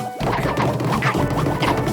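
A cartoon rat beats a piece of meat to tenderize it, a run of loud, dense smacking and crashing impacts in quick succession, up close over busy cartoon background sound.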